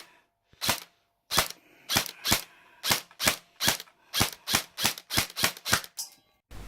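A G&G CM16 airsoft rifle fires in full auto, giving sharp, close-range bursts of snapping shots that come in a quick, uneven string, with short gaps between the groups. Each shot is crisp and loud, and no one speaks over them.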